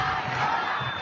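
A large crowd roars and cheers at the departure of a Gaza flotilla, a dense steady wall of voices held at one level throughout the short burst.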